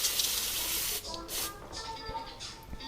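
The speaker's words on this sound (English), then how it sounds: "giving it a quick spray with electrical cleaner" A short hissing burst of electrical cleaner sprayed onto starter motor brushes, loud and close for about a second, followed by quieter hiss and light handling sounds.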